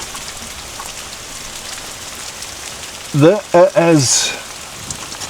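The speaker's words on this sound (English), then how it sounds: "it's raining about as heavy as it can rain in Scotland" Heavy rain falling in Scotland, a dense continuous hiss of drops throughout, with someone briefly speaking near the end over the downpour.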